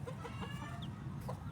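A Silkie hen in a backyard hatching nest making soft low clucks, close and quiet against a faint hum.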